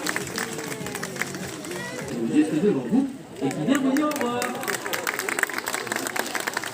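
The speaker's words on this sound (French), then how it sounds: "Et on peut l'applaudir à Nora encore une fois" Audience applause at a zoo animal show at the Toulouse zoo: steady clapping and crowd chatter under a presenter's ongoing French speech, swelling in the second half.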